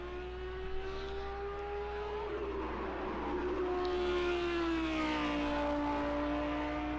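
Race car engine in the Project CARS 2 sim racing game at Watkins Glen, a steady droning tone that dips and then climbs again as the car powers out of a corner, heard alone at moderate volume.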